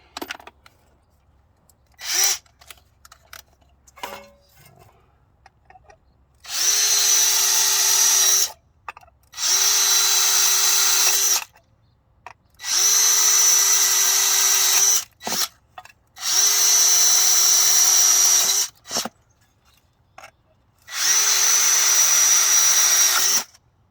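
A power drill bores pass-through holes for screws while repairing a camper jack in a rotten wall, whining in five long, loud bursts of a few seconds each, with short pauses and clicks between them.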